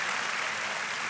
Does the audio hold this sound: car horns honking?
no